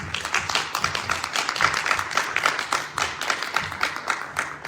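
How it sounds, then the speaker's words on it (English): Applause from an audience at a township supervisor candidate forum, a steady patter of many hands clapping at moderate loudness for the whole stretch. "Could we please give them a round of applause for coming?"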